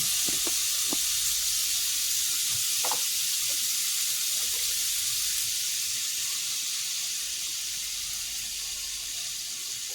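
Fish fries in coconut oil in a pan, giving a steady, close sizzling hiss with scattered small pops that eases slightly over the ten seconds.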